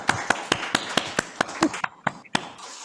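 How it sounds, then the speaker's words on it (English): Scattered, evenly spaced claps ring out at the close of a panel discussion on adult social care, a thin round of applause with sharp individual hand strikes rather than a dense roar. "We just one last round of applause."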